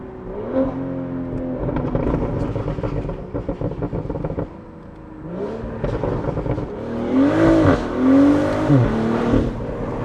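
BMW Z4 M40i fitted with a Valvetronic Designs full exhaust, revved repeatedly up close: rising and falling engine notes in several bursts, the loudest and highest rev near the end, with no talking over it.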